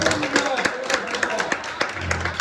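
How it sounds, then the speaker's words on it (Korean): Small audience at a cafe concert clapping for one another, a brisk close patter of hands with voices mixed in. "이렇게 서로에게 박수 한번 드립니다"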